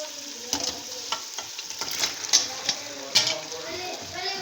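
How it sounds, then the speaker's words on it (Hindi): Macaroni tipped into spiced beef frying in a pan and stirred, a moderate sizzle broken by irregular scraping and clinking of the spoon against the pan. "अब इसमें मैक्रोनीज़ डालेंगे"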